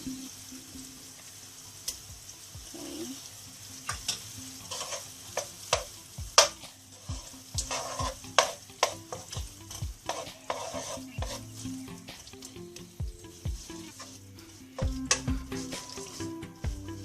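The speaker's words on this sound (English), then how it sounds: "So now the garlic turns into golden brown. We may add our butter." Garlic sizzles in butter and olive oil in a pan, a faint steady crackle under repeated stirring and utensil clicks against the pan.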